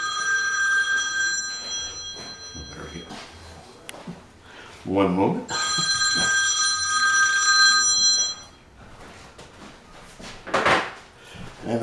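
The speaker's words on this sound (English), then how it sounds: "And the phone always rings." A telephone rings in a home kitchen during baklava preparation, two long bursts of trilling bell that stand out loudly, with a person speaking briefly around them.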